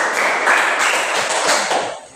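A class of pupils claps hands together during a lesson, a loud, close, rapid burst of many hands with a rhythmic pulse, tapering off at the very end.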